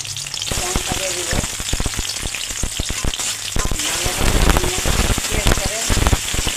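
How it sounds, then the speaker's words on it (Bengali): Onions and green chillies fry in oil for a taro-stolon curry with prawns and dried fish, a dense crackling sizzle like rain, broken by repeated scraping and knocking of a spatula as the pan is stirred. "পেঁয়াজটা আমি লাল লাল করে ভেজে নিব।"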